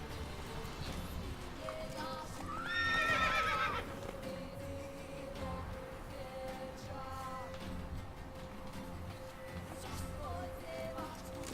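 A horse in The Witcher 3: Wild Hunt whinnies once loudly near the start, with soft hoof clip-clops and game ambience around it, and a voice speaks briefly over the scene.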